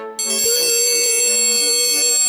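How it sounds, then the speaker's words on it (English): A bell rings out to call guests to dinner, a bright sustained metallic tone that starts abruptly and keeps sounding loud and steady with a rapid shimmering pulse. "You start hearing a bell."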